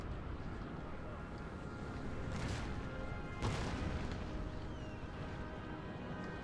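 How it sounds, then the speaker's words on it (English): Artillery fire in a Napoleonic-era Total War battle, the French guns rumbling as dull booms that blend into a dense, continuous wash of battlefield noise at moderate volume. "the French artillery is immense"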